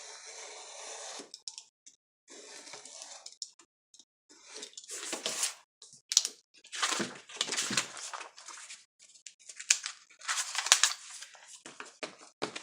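Scissors snip through a stack of craft paper pages, giving a run of irregular crisp cutting and rustling bursts, close and moderately loud, with brief pauses between cuts.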